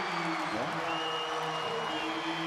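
Crowd noise swells in a basketball arena during an NBA game between the Toronto Raptors and Los Angeles Lakers, a steady broad roar of cheering beneath an announcer's commentary.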